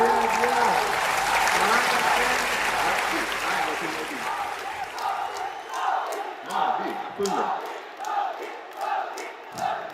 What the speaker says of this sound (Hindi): जोरदार ताली बजाइएगा